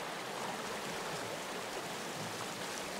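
Water rushes steadily from a waterfall-fed stream in Sons Of The Forest, a constant broadband hiss that stays even and faint with no talking over it.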